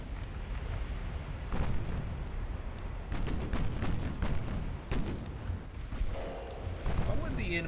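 Deep booms of battleship guns firing during target practice in Ultimate Admiral Dreadnoughts, a string of heavy rumbling shots with someone talking over them.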